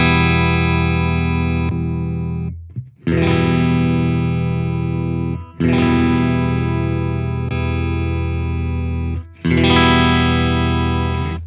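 Distorted electric guitar through an ENGL Ironball SE tube amplifier, long sustained chords ringing out loud, cut off and restruck three times.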